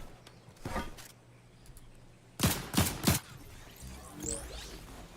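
Gunfire from a Fortnite team fight, with a few scattered shots followed by a quick burst of three or four sharp reports, fairly faint and distant against quiet game ambience.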